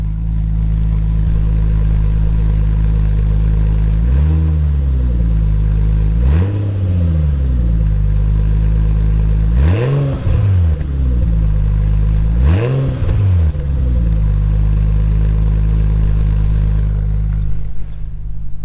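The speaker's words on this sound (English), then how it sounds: "I'll try to give it a couple little small little blips of the throttle and we'll see what happens." A Nissan Skyline R34 with a test pipe in place of its catalytic converter idles steadily and loudly, then four short throttle blips rise and fall in pitch at spaced intervals before it settles back to a rumbling idle.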